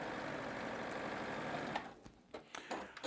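A sewing machine stitches a quarter inch quilt seam in a quilt block, a steady close motor whir for most of the stretch, then it stops and gives way to a few soft handling clicks and rustles.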